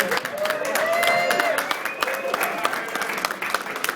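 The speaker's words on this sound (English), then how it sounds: "Like, round of applause." An audience at an Uber happy hour event in San Francisco breaks into a round of applause, dense clapping continuing for several seconds while voices rise and call out over it.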